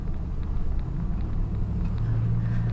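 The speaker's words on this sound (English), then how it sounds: "Right now I'm in 4 low, and if I just touch the throttle, I'm spinning the tires." A 2015 Jeep Wrangler Rubicon JK with an LS3 engine, one-ton axles and lockers, in 4 low with light throttle and tires spinning: a steady, loud low rumble of engine and drivetrain that swells slightly toward the end.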